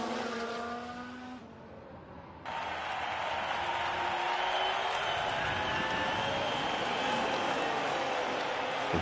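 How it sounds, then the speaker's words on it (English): In the F1 Manager 22 racing game at Spa, Dutch fans cheer for Max as a loud, steady crowd roar blends with whining race car engines passing by. "You can hear the Dutch fans cheering on Max."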